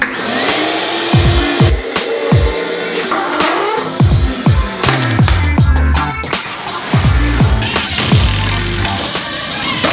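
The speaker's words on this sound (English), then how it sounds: "I'm gonna go ahead and vacuum it off real quick before I start putting my cabinets up" A vacuum cleaner whines steadily while it sucks dust off a wall before cabinets are hung, with repeated scraping knocks and bumps of the nozzle against the surface. The sound is loud, close and continuous.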